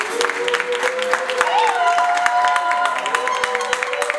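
Clapping from guests at a Congolese religious wedding ceremony, a moderate, busy patter of hands beneath continuous singing or speaking voices and tonal music.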